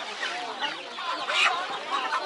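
Chickens clucking in a crowded poultry market, a dense steady chorus of hens and fowl close by, with louder squawks rising briefly midway and faint voices mixed in.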